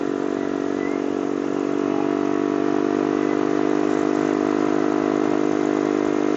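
A Yamasaki YM50 motorcycle with a hot engine running steadily at a constant buzzing pitch, loud and close, with no voices over it.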